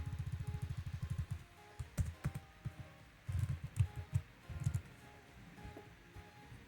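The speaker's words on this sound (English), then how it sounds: "I don't even know how to type my password." Keys on a computer keyboard tapped in quick bursts while a password is entered at a login prompt, a fast run of clicks at first, then scattered clusters of keystrokes with short pauses.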